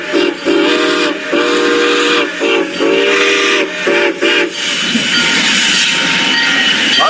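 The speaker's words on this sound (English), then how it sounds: "the whistle that number 2 was using at this time during a Mexican excursion was actually a Southern Pacific 6 chime" Ferrocarril de Sonora number 2 steam locomotive sounds its Southern Pacific six-chime whistle on a Mexican excursion: several loud, close blasts of mixed length in a broken rhythm, then a steady rush of steam and rail noise.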